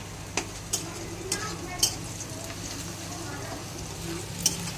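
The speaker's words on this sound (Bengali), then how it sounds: "এখানে মটনের জন্য পেঁয়াজটা ভাজা হচ্ছে" Onions frying in a pan with a steady low sizzle, broken by a few sharp scrapes of a spoon at irregular intervals.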